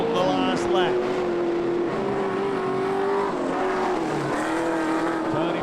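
Midget race cars on the Lismore Speedway track during the last lap of the 2014 POWRI World Midget Championship, a loud continuous engine roar with wavering pitch under a commentator's voice.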